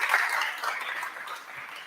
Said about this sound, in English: Huge applause for you.